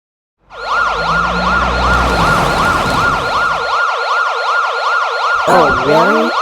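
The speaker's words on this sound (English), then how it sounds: "Sirens going off?" A loud wailing siren cycles rapidly up and down, close by and steady, with a second warbling tone cutting in near the end.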